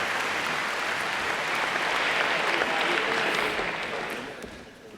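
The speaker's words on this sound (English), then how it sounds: "One more big round of applause for our 2019 salutatorians." A graduation audience at West Salem's 2019 ceremony applauds the salutatorians, a dense sustained clapping from a large crowd that holds steady and then tapers off toward the end.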